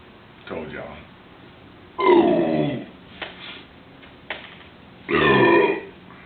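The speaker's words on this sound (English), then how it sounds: "It makes pretty good burps, so." A man burps after drinking Coors beer: two long, loud, throaty belches a few seconds apart, with a smaller one near the start and brief quiet between.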